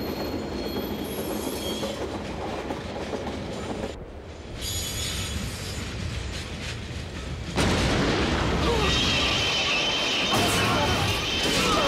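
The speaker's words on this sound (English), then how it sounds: "A week later, a train transports captured resistance fighters." Loud, continuous rumble of a train carrying captured resistance fighters, with rattling wagons and shrill wheel squeal, the roar shifting abruptly in character as the scene cuts, with no speech.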